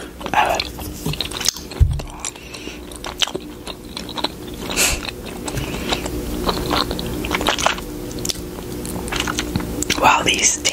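Snacks being bitten and chewed up close, with crisp crunches and wet chewing bursts scattered throughout, under intermittent soft talking.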